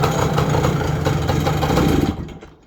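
A Yamaha PW 80 motorbike engine running without choke after a carburetor clean, a loud, rough, uneven idle that sputters and bogs out, dying away abruptly near the end.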